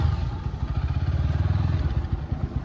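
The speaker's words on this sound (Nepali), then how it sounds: "आज हामी बाइकमा जाने गाडी यहीँ छोड्ने हो" A motorcycle engine idles close by with a fast, throbbing low putter, steady and fairly loud, no voices.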